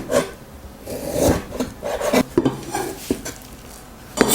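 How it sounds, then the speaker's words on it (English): Meat is cut into small pieces on a board for mapo tofu, with irregular knife strokes, rubbing and scraping sounds, and a few sharper taps, close and fairly loud with no talking. "Cut the meat into small pieces."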